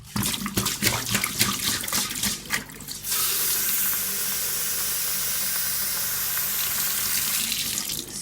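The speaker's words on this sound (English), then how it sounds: "soaking overnight, so I'm going to drain the water." Soaking water from broccoli sprout seeds poured down a sink, first with choppy splashing and gurgles, then settling into a steady, loud rushing stream that runs on alone.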